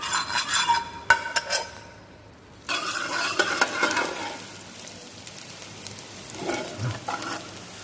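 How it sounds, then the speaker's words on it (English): Butter heats in a pan for mushroom risotto, giving a soft sizzle with stirring and a few clinks of utensil on metal, close by, with a brief quiet gap early on. "heat up the butter"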